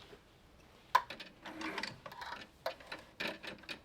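A sewing machine stitches straps onto a fabric tote bag in quiet, uneven bursts of rapid mechanical clatter, separated by short pauses.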